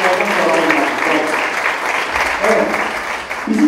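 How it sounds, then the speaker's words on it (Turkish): An audience at an e-commerce talk event in İzmir applauds, a dense, sustained clapping that fills the room, with voices mixed into the clapping. "Sevgili Kıvanç'ı alkışlarla yayın alıyoruz"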